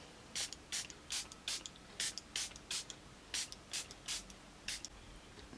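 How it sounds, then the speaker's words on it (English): Charlotte Tilbury Airbrush Flawless Setting Spray misted onto a face in about a dozen short, crisp hissing pumps at an irregular rhythm, close and fairly quiet over a faint room hum. "This is the Airbrush Flawless Setting Spray"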